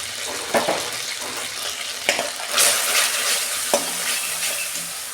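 Spice masala with turmeric, coriander, cumin and salt being stir-fried for an okra curry, a constant close sizzle of oil broken by a few sharp spatula scrapes and knocks against the pan.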